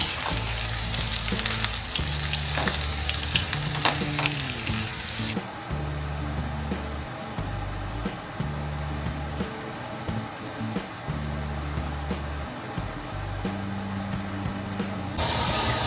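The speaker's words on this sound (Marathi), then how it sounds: "असं छान आपल्या वड्या आपण तळून घ्यायच्या आहेत, फ्राय करून घ्यायच्या आहेत" Aloo vadi, colocasia leaf rolls, shallow-frying in hot oil until crisp give a continuous close sizzle and crackle, louder at first and then steadier, with no speech.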